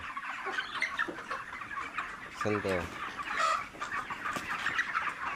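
Many chickens cluck and squawk together in a poultry shed holding about three thousand birds, a dense, continuous flock chatter with one brief louder call, while someone speaks briefly.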